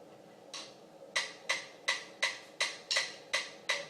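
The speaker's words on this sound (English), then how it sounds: "we're going to shift the paradiddle, so it'll be a paradiddle diddle" Single strokes on a practice pad or snare spelling out paradiddle-diddle and paradiddle rudiments: eight crisp, evenly spaced taps in a slow, steady pulse, close and fairly quiet, with no talk.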